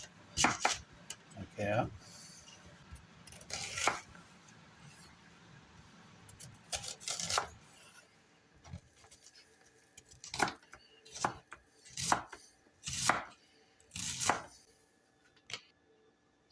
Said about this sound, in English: now we're going to chop up our onion